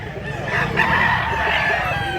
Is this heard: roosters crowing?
yes